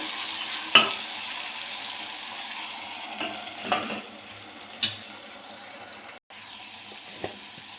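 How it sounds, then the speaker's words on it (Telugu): Tomato pieces cooking on a low flame for tomato egg fried rice, stirred now and then: a quiet, continuous sizzle broken by a few sharp scrapes and clicks of a spatula against the pan. "ఒకసారి టమాటా పీస్ మొత్తాన్ని మిక్స్ చేసుకోవాలండి ఒక టూ మినిట్స్ కుక్ అయ్యే వరకు లో ఫ్లేమ్లో కుక్ చేసుకోవాలి"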